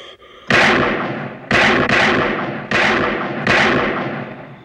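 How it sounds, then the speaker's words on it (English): Five loud, sharp gunshots ring out in a Halloween film scene, each followed by a ringing decay. They come in an uneven rhythm, close and alone, with no talk. "I shot him 6 times! 6 times I shot him!"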